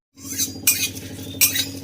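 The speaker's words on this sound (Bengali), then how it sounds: "তো চলো আমি মশলাটা ভেজে নিই" Spices, starting with dried red chillies, are fried in a hot wok: two brief metallic scrape-and-clink strokes of stirring over a steady low hum and soft sizzle.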